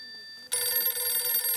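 A telephone starts ringing partway through, with a quiet tone before it and then a loud, continuous electronic bell trill that carries on to the end, indoors in a comedy household scene.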